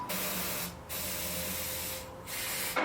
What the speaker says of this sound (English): we could throw a little starting fluid between the carb and the intake, or just in the intake